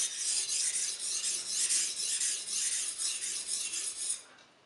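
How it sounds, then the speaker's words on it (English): A kitchen knife slides across a whetstone in a steady stream of bright, hissing scrapes, stroke after stroke at an even pace, close and clear, before tapering off abruptly near the end; no one speaks. "A good way to judge whether or not if you're sharpening this correctly is you can listen to the sound"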